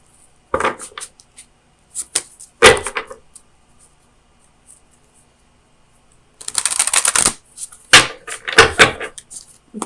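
Oracle of Visions cards by Ciro Marchetti being shuffled by hand, irregular papery riffles and taps in scattered bursts, close and crisp with quiet gaps between, with no talk.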